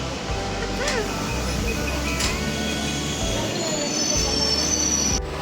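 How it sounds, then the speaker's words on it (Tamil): A Chennai-bound passenger train rumbles and rolls along with metallic wheel squeals and screeches rising over the steady low roar of the cars. "சென்ட்ரல் போகிற ட்ரெயின் நம்ம கிளம்பிட்டோம்"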